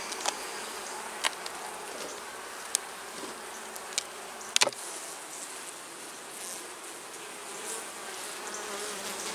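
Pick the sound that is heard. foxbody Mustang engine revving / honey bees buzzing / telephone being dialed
honey bees buzzing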